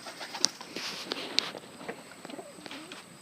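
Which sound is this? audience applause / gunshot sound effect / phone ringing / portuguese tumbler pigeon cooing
portuguese tumbler pigeon cooing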